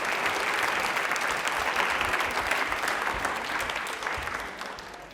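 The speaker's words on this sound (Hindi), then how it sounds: "तालियां एक बार जोरदार हो जाए।" Sustained applause from a TV quiz show audience, steady and fairly loud, tapering slightly toward the end with no talking over it.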